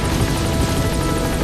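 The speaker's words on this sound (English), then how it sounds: "The chopper will be able to get in close now." A helicopter arrives in the video game Metal Gear Solid V: The Phantom Pain, its rotor beating loud and steady with a dense, unbroken engine roar throughout.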